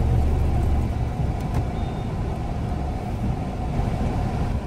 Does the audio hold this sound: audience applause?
no